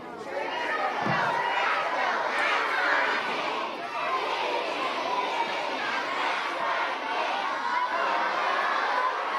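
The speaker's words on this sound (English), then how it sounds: "Let's do our cheer" Children at a school junior assembly shout their group cheer together, a loud, sustained chorus of young voices filling the hall without pause.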